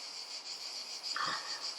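Cicadas outside an open window on a hot, windy day give a continuous shrill buzzing drone at a moderate distance, faint and steady, with a brief louder rustle near the end.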